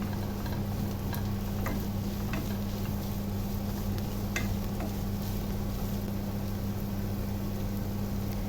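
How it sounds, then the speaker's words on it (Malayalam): Chicken pieces fry in onions for a Ramadan snack, giving a steady, even sizzle with faint scattered ticks and a low hum underneath. No one speaks. "ഈ സവോളയിൽ കിടന്നിട്ട് ചിക്കൻ്റെ പീസ് ഒന്ന് ഫ്രൈ ആവും ചെറുതായിട്ട്"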